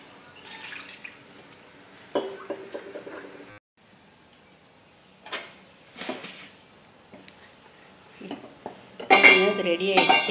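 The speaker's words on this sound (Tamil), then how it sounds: "இது கொஞ்சம் நேரம் கொதிக்கட்டும்." Metal utensils scrape and clink against a pot as simmering gram flour gravy bubbles, with intermittent stirring bursts and a louder clatter near the end.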